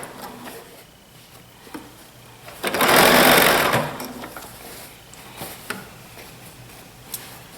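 A sewing machine runs a straight stitch on a pleated blouse in one short, loud, steady burst lasting about a second, surrounded by quiet handling clicks.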